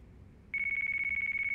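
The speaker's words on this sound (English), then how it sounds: "Oh, now his phone's gonna ring." A phone in Yakuza 5 Remastered rings with a bright, steady electronic trill that starts abruptly after a brief quiet moment and pulses rapidly, loud and alone for about a second.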